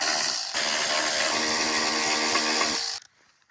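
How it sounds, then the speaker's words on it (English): Impact driver with a 5/16 socket backing screws out of a lawn mower cover, one loud continuous rattling burst of about two and a half seconds, close up, then stopping abruptly. "For sake of time, I'm going to use this impact I've got right here."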